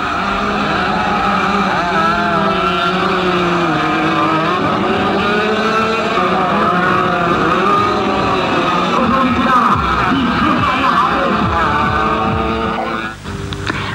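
Go-kart engines at a racing exhibition during a motorbike race meet, a continuous buzzing, multi-toned drone of several small engines revving steadily throughout, loud and close, ending with a brief dip.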